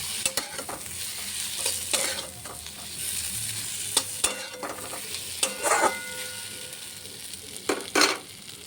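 Duck egg and potato curry is stirred in a pan over a continuous sizzle, with irregular spatula scrapes and clinks against the metal, close and fairly loud, and no speech.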